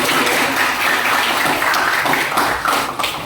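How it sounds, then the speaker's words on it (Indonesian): Steady applause from an audience gathered at a university session, a continuous wash of many hands clapping at moderate loudness throughout, without speech. "Kasih tepuk tangan."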